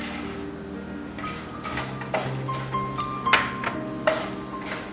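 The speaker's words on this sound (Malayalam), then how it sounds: "തൊലി കളഞ്ഞ വെള്ള ഉഴുന്ന് പരിപ്പാണ് ഞാൻ ഇതിലേക്ക് ചേർത്തിരിക്കുന്നത്" Chana dal and urad dal roasting in a pan, a steady soft sizzle with scraping stirs and a few sharper clinks of the spoon against the metal, close and moderately quiet with no talk.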